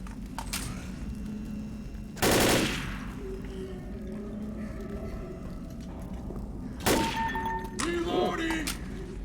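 Gunfire from the Left 4 Dead video game comes as two short, loud bursts a few seconds apart, with quieter game ambience and a voice in between.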